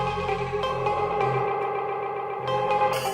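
Dub echo sound color effect on a Pioneer DJ XDJ-AZ controller: music repeats in trailing, reverberant echoes that build and smear at moderate loudness, with no voice.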